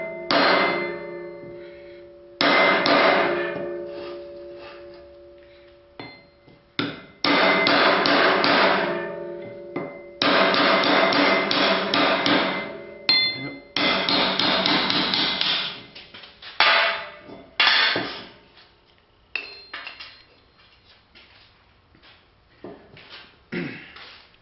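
A blacksmith's hammerhead being struck to drive its handle out, with loud, ringing metal blows in repeated bursts separated by pauses, the strikes gradually thinning out toward the end.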